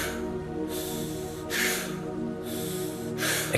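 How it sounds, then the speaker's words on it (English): Three forceful, exaggerated exhales through the nose and mouth during a breathing meditation, each a loud breathy rush spaced about a second apart, close and with no talking. "Exaggerated exhale."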